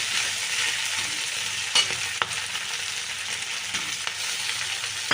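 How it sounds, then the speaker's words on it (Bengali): Ginger paste fries with a steady soft sizzle in a pan, broken by a few sharp clicks of stirring, close up and fairly quiet, with no one talking. "একটু এর সাথে ভাজা ভাজা করে নিলাম আদা বাটাটা দেখো এটা চলছে এখানে নাড়ে চাড়া চলছে"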